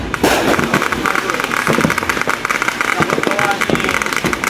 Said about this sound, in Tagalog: enjoy nyo yung fireworks dyan